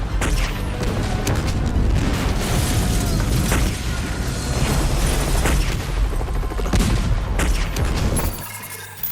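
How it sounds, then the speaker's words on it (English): Grenade launcher fire and explosions from a Hulk Hogan action movie, a dense, loud barrage of repeated booms and blasts that continues almost without pause before cutting off near the end. "it's 50 seconds of Hogan shooting grenades with tons of reused shots"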